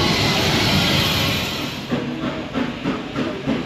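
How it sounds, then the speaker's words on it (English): A freight train hauled by two steam locomotives rushes past at speed on a heritage railway, a loud broad roar with steam hiss and rhythmic wheel clatter growing more pronounced toward the end. "Here's the freight train coming through at great speed"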